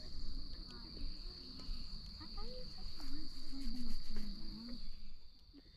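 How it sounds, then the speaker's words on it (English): Frogs calling in the evening by a pond, a steady chorus of chirping, warbling calls over a constant high insect-like trill, moderately close and continuous throughout. "All the frogs are getting going for the evening."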